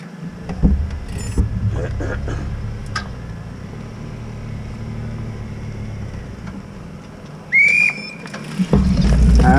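A single short, shrill whistle blast signals the start of a five-lap Lucarelli and Castaldi Cup race, cutting briefly through a steady background rumble of vehicles and crowd near the end.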